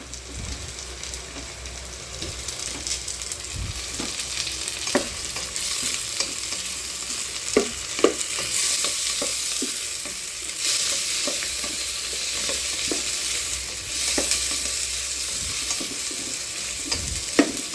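Tomatoes are stirred and sautéed in a hot pan while cooking Ilonggo-style mung beans with jackfruit and pork hock, giving a continuous hissing sizzle broken by scattered scraping and clinking taps, with no voices.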